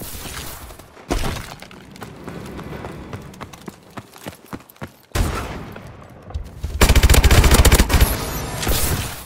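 KF5 submachine gun fire in Call of Duty Advanced Warfare: sharp, loud bursts of rapid automatic shots in separate volleys, with scattered single cracks and impacts between them and a long burst near the end.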